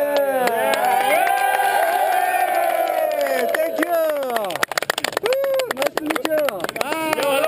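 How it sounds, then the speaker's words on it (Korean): A huge crowd of Pakistanis in the Himalayas closes around a paragliding team as it lands, shouting and cheering loudly in a dense wall of voices, with scattered bursts of clapping in the second half. "포위뿐만 아니라 박수와 환호성까지 터져 나옵니다."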